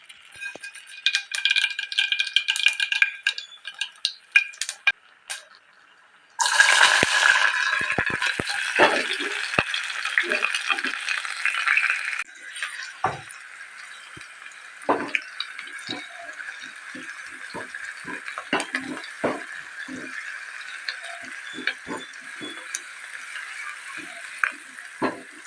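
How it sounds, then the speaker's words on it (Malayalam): Mustard seeds tempering in coconut oil crackle and pop in a Palakkad home kitchen: an initial burst of dense sizzling, then scattered sharp pops and spitting that continue steadily, fairly close and clear with no talking. "നല്ല ശുദ്ധമായ വെളിച്ചെണ്ണ ഒഴിച്ച് അതിലേക്ക് 1/2 സ്പൂൺ കടുക് കൂടി ഇട്ട് കൊടുക്കാം"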